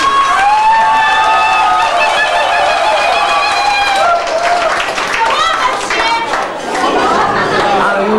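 Guests at a wedding clap and cheer for a newly named couple, steady loud applause with whoops and crowd chatter throughout, a voice talking over the noise near the end.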